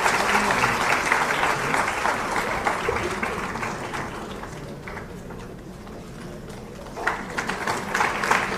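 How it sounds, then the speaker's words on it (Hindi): Sustained crowd applause at a formal government event welcoming India's Union Education Minister Dharmendra Pradhan, a dense steady roar of clapping that eases slightly midway and swells again near the end. "तालियों की गड़गड़ाहट बनाए रखिएगा।"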